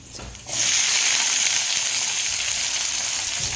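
Mustard seeds, fennel and cumin drop into hot oil and set off a sudden loud, steady sizzle that keeps going close by.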